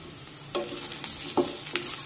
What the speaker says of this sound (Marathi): परतून घेऊया.